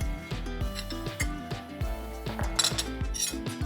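A utensil mixing salt and pepper into ingredients in a bowl, quick close clinking and scraping strokes in an uneven rhythm, no talk.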